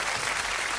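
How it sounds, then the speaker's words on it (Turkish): Short, dense burst of applause on a Turkish television cooking show, a continuous wash of clapping lasting under a second. "Alkış yap."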